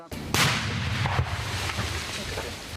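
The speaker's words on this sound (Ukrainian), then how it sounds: "Все це підривають на місці." Sappers blow up mines and unexploded shells on the spot in a tree line near Bakhmut. One sharp, loud blast is followed by rolling, booming echoes and a few smaller thuds.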